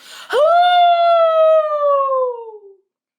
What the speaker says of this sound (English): Just then the phone rang. Actually, it howled.